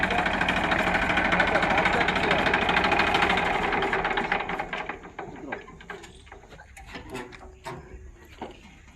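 A tractor engine rumbles loud and close, then fades and thins out over the second half, with people talking nearby.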